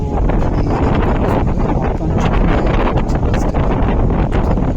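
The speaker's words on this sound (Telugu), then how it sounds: "గాలి ఎక్కువగా ఉండడం వల్ల" Strong wind buffets loudly and continuously across an open ship deck, roaring and gusting with deep rumbling underneath; no voices.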